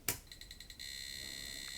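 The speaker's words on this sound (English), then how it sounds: "We've got 2 beeps and it posts." A Commodore 486 computer with a repaired motherboard and a newly fitted ISA graphics card gives short, faint electronic beeps as it starts up, followed by a steady high-pitched tone.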